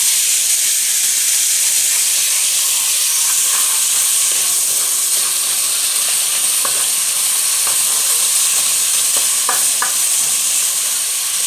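Minced garlic sizzles steadily in a hot pan while being stirred, a constant bright hiss with scattered soft scrapes and clicks of the utensil, close and alone without voices.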